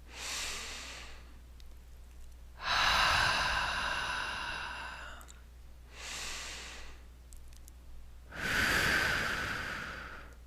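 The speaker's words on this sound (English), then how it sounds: "let's take some nice deep breaths" Four slow, deep breaths alternate between softer inhales and louder, rushing exhales, close and clear in a quiet room.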